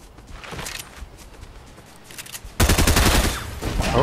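Fortnite gunfire crackles in the distance at first, then a louder, dense burst of rapid shots erupts partway through and continues to the end over a noisy game background.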